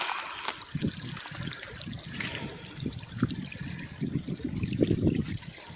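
Flood water runs toward a culvert, a close trickling and dribbling flow with soft gurgles and splashes rising and falling over a low background.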